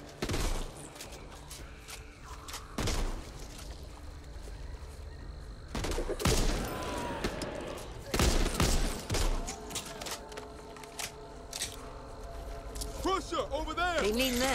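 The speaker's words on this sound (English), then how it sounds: "Machine gun." Machine gun fire in the Back 4 Blood video game, sharp repeated bursts of shots standing out against a busy game soundscape, with voices talking in between.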